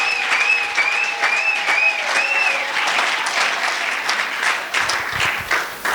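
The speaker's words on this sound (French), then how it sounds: "est-ce qu'on peut acclamer très fort?" A church congregation bursting into loud, sustained applause and cheering, dense clapping filling the room with whoops and a warbling instrumental tone rising over it at the start.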